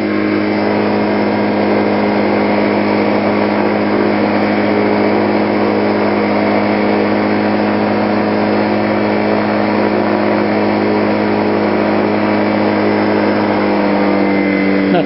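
A Dragonfly light aircraft's engine holds a loud, steady, buzzing drone throughout the takeoff, close and unbroken, with no voices.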